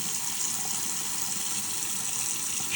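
A kitchen tap runs steadily while the water warms up, a constant close hiss of flowing water that stays even throughout with no talk.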